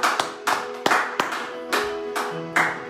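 A church congregation applauds during worship, with a run of loud, uneven bursts of hand claps close by, clustered irregularly over a few seconds and carrying no speech.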